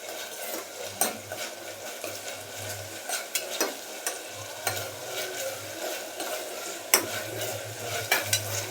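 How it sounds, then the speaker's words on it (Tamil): Ginger garlic paste sautés in a pan for a mushroom biryani, a soft steady sizzle broken by repeated spatula scrapes and clinks against the pan. "இஞ்சி பூண்டு பேஸ்ட் நல்லா வதக்கிட்டு"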